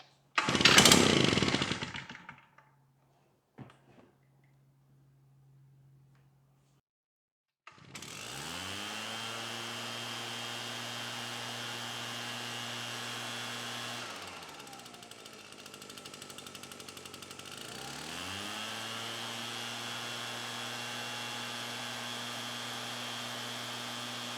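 Small carbureted engine fires up after a loud pull-start clatter and a pause, then runs at a steady, buzzy high speed, dips briefly near the middle, and recovers to an even drone.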